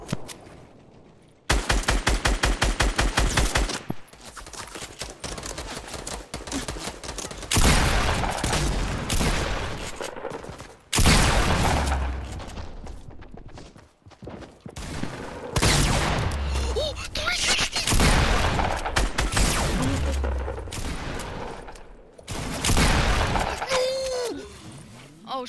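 Fortnite gunfire in dense, loud automatic bursts that rattle almost continuously, with brief gaps and heavy impacts, players' voices faintly mixed underneath.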